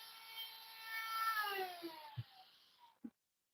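A Dremel rotary tool carves wood with a whining buzz whose pitch slides downward as the chuck works loose, then winds down, followed by two brief knocks before silence.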